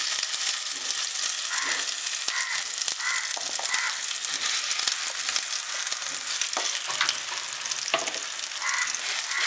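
Masala paste for cashew and prawn korma sizzles steadily in a hot pan, a continuous bright frying crackle with occasional stirring scrapes and faint bird calls far in the background.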